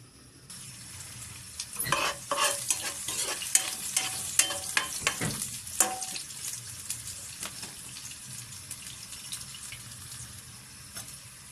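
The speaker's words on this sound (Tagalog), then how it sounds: "Magigisa na po tayo" Onion, ginger and garlic sauté in hot oil for native chicken tinola, with a busy crackling sizzle and clattering stirs that ease into a quieter, steady fry.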